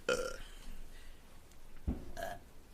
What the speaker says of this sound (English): that burp smelled